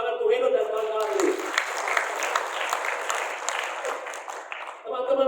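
An audience at an Indonesian economics talk breaks into a warm, sustained round of clapping lasting several seconds, with a speaker's voice just before and just after it.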